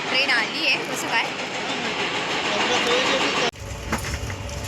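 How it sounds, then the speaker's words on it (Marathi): A train pulls into a station in the Konkan region, a steady broad rumble of wheels and carriages rolling on for several seconds before cutting off abruptly into a quieter low hum. "ट्रेन आली आहे कसं काय,"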